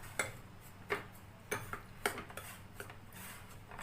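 A spoon mixes rice flour batter in a bowl, making sharp taps and clinks against the side at an uneven rhythm. The sound is close and fairly quiet, with no talking.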